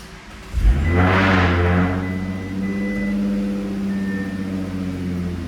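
An Audi car engine is started: a short cranking burst that catches, followed by a steady idle hum with a low, even drone that holds for several seconds, close and loud.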